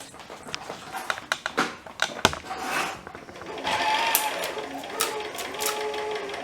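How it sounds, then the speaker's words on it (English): Sewing machine winding elastic thread onto a bobbin, heard as irregular close mechanical clicks and short whirring bursts, with a steadier run of motor hum in the second half. "First, we're going to show you how to wind your bobbin."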